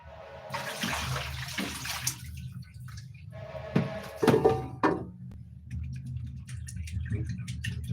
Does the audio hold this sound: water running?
yes